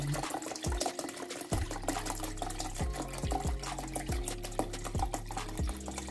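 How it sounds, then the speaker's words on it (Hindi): Water poured into yoghurt while making sweet Punjabi lassi, a continuous trickling, splashing fill heard close and steady, with faint regular thumps repeating underneath. "तो अब मैं इसमें जितना मुझे पानी की ज़रूरत है उतना हम इसके अंदर पानी ऐड कर लेंगे।"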